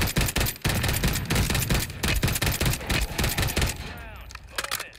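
Rapid bursts of mounted-gun fire crackle in the video game Warzone, dense overlapping volleys that run loud and nearly continuous, with a brief voice in the mix.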